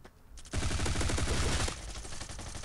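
Rapid automatic gunfire in the mobile shooter Bullet Force, a loud sustained burst of closely spaced shots lasting about a second before easing into quieter continued fire and game noise, with no talking.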